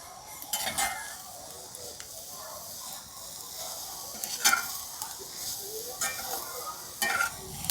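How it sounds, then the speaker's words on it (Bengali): Vegetables cooking without oil over low heat in a covered pan, a soft sizzle under scattered scraping and clinks of a spoon stirring, quiet and close. "মাঝে মধ্যে কিন্তু ঢাকনাটি খুলে নাড়াচাড়া করে দিচ্ছে"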